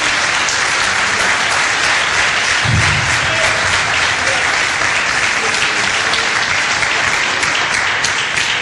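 A church congregation gives sustained, loud applause during a Spanish-language sermon. The dense, even clapping holds steady for nearly nine seconds with only faint voices underneath.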